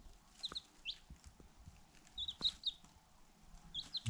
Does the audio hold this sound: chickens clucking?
yes